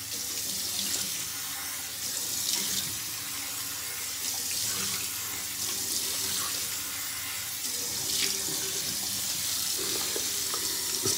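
Hot water runs steadily from a bathroom sink tap before shaving, a continuous close splashing rush with no pauses and no talking.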